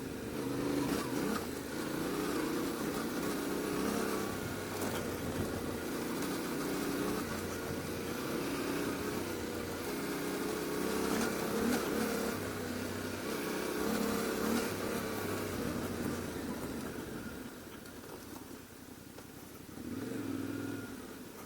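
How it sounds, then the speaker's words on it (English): A Yamaha Ténéré 700 motorcycle engine runs steadily while riding, with a continuous low drone and recurring surges as the throttle rises and eases, close and moderately loud with wind noise and no talking. "The engine is fantastic, even though it's not so snappy and powerful"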